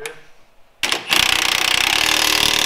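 A power tool tightens front bolts; after a brief quiet moment it starts up loud and close, running as a steady, rapid rattling hammer with no talking over it.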